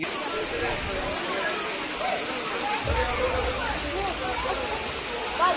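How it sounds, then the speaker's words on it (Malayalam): Steady broadband rush of water flowing at Seetharkund waterfall in Kollengode, Palakkad, a continuous hiss filling the whole stretch with a low rumble joining partway through, with faint crowd chatter in the background. "നെല്ലിയാമ്പതി മലനിരകളിൽ നിന്ന് വരുന്ന വെള്ളമാണ് കേട്ടോ ഇത് നേരെ കൊല്ലംകോടിലൂടെ ഒഴുകി പോവുകയാണ് ചെയ്യുന്നത്"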